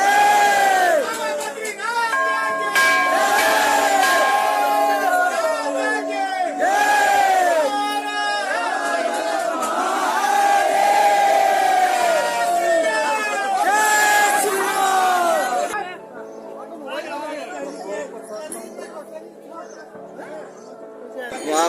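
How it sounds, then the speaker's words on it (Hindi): Dense crowd noise at Badrinath temple, a Hindu pilgrimage shrine: loud, continuous shouting and chanting from many voices. The sound thins to a quieter babble of scattered voices for the last few seconds. "बहुत ज्यादा भीड़ है भाई,"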